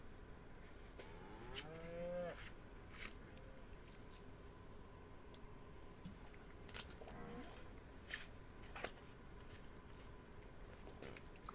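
Cattle in the Ranch Sim farming game low twice, each moo a drawn-out call at moderate distance, over a constant buzz of flies and farm ambience with occasional clicks.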